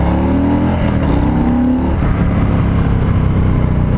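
A 2020 Harley-Davidson Low Rider S motorcycle on the move, its engine a loud, continuous low drone mixed with wind rush, steady throughout with no talking.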